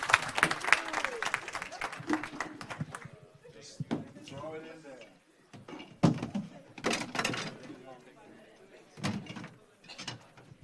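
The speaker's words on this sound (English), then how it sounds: "May I have a big applause for these brave people here with their instruments." Audience at a peace conference plenary session gives bursts of applause, irregular swells of clapping that rise and fade in patches with quieter gaps between them and speech heard around them.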